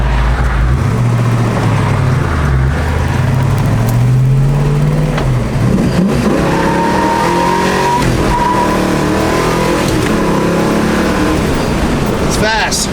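A 1966 Shelby Mustang GT350 accelerating on the road, its loud engine rising and falling in pitch through the gears with some tire noise, continuous and close for the whole stretch.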